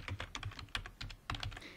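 Keys clatter on a computer keyboard in quick, uneven bursts of clicks, close and fairly quiet, with brief pauses between runs and no speech.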